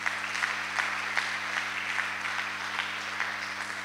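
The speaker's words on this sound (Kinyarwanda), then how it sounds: "reka tuyikomere amashyi menshi." Church congregation clapping together, a sustained steady patter of many hands at moderate distance with a faint hum underneath.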